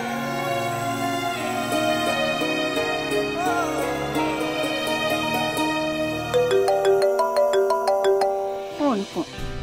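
A phone rings with a melodic electronic ringtone, playing repeated bright tones over a background of music, with a voice speaking over it.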